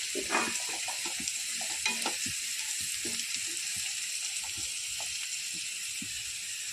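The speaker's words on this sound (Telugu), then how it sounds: "ఇదైతే బెండకాయ ఫ్రై." Okra stir-frying in a pan, a continuous soft sizzle broken by repeated spatula scrapes and taps in an irregular rhythm, close and moderately quiet, with no voices.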